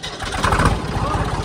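Small new tractor engine running close by, a loud low chugging throb with people talking over it.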